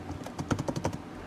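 Keys clatter in a quick, close burst on an HP ProBook 4530s laptop keyboard, an uneven run of crisp taps lasting about a second with no voices.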